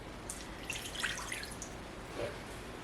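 Half a cup of water poured into vinegar for a cucumber salad dressing gives a faint, soft trickle lasting a few seconds, close by and without speech.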